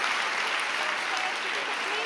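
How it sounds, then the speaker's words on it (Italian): Applause for the winners at a Biennale awards evening: a large crowd claps in a dense, steady roar that fills the whole stretch, loud and close. "This is the applause for all the winners of tonight and of this Biennale."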